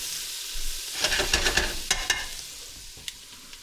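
Onions browning in a pot for a pot roast, sizzling steadily while a utensil scrapes and stirs them in a few bursts, close and alone with no talking.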